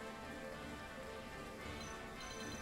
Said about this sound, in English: Because it's raining and a tempest.